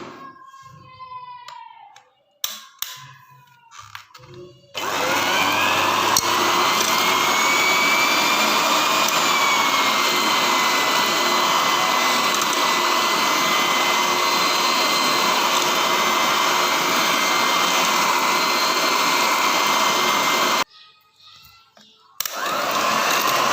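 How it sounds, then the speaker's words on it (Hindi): A kitchen blender churns cooked tomato mixture for ketchup, starting abruptly into a loud, steady whirring roar that holds for about fifteen seconds before cutting off, with someone talking before and after. "तो मिक्स करने के बाद ये ब्लेंडर करते हैं, तो इसको करते हैं ब्लेंड।"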